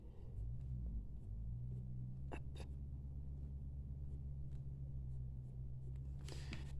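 Coloured pencil shading on paper while drawing fir branches, light pressure giving a soft, steady scratchy rasp that runs throughout beneath a constant low rumble.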